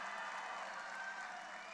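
Rally crowd in Pensacola, Florida, applauding and cheering in a steady, dense roar of clapping and voices that holds without pause throughout, fairly distant and even in level.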